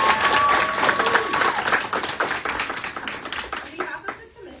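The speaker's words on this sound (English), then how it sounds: "Let's give our candidates a round of applause." An audience at a council candidates' speak-out event applauds, a close burst of hand clapping that is loud at first and gradually thins out and fades.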